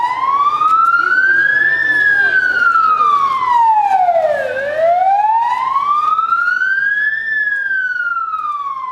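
An ambulance siren wails loud and near in long, slow rising and falling sweeps, its pitch dipping sharply once before climbing again, with a faint engine rumble underneath.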